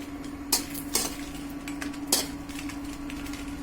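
Dried red chillies dry-roasting in a pan with no oil for Kerala-style ulli theeyal, heard as a few sparse, faint clinks and scrapes of stirring over a quiet, steady hum.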